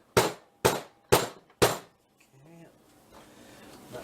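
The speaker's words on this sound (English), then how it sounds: "Grab our trusty rubber mallet here." A rubber mallet taps a pin into a Tristar 12-gauge semi-automatic shotgun with four sharp, evenly spaced knocks up close, followed by quieter handling noise.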